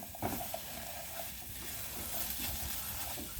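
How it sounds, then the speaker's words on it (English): A spoon stirs flour into a pot of potato soup base, giving a soft, steady scraping and shuffling with light sizzle underneath, close and quiet with no talking. "now I'm stirring in the flour"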